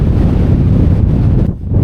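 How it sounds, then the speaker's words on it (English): Strong wind gusting over a hilltop in the Peak District, buffeting the microphone with a loud, continuous low roar that dips briefly near the end, with no voices. "it's a bit windy up here"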